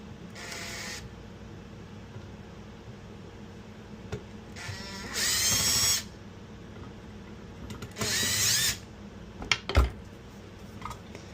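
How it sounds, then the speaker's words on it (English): Screws being removed from a Greenwald Industries coin slide: a few bursts of metallic screwdriver or power-driver whirring of about a second each, with clicks and small clanks of metal parts between them, close and fairly loud, with no talking. "And I'm going to take these screws out."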